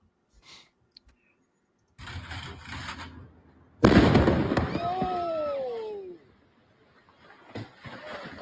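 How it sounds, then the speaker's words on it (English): A house explosion in Virginia: a sudden loud blast erupts after quiet moments and faint knocks, followed by rumbling debris and a fading whine; distant voices murmur near the end. "Now watch the explosion."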